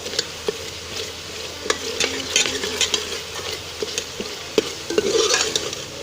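Chopped onions fry and sizzle in a pot as a ladle stirs and scrapes them, with steady crackling and repeated close scraping strokes throughout, no talking.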